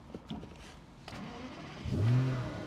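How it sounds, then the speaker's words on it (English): A 2003 Aston Martin DB AR1 Zagato's V12 engine, cold and push-button started, cranks and fires up, roaring into a rising rev near the end after a quiet start with a few faint clicks. "you can hear that V12 come to life"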